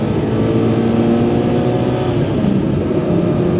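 A Toyota Sera's small engine running at high revs above 5,000 RPM, a loud, steady buzzing drone with little variation, heard alone from inside the car.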